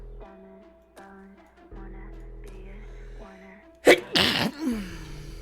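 One sharp, loud human sneeze bursts out near the end, close to the microphone, following a stretch of soft sustained electronic music notes.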